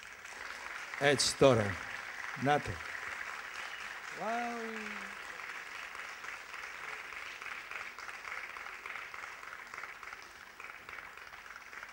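Audience applause for a children's choir at a concert in Syros, a steady wash of clapping running throughout with a voice breaking in briefly over it.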